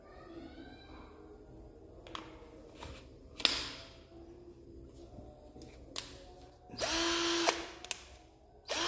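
A DongCheng DCJZ1202i cordless drill with a brushed motor, heard in short bursts: brief whirring pulses and clicks, then a longer high-pitched spin-up near the end, close and fairly loud.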